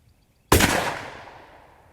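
A single loud rifle shot cracks out while sighting in at a target, its sharp report decaying over about a second and a half with no talk.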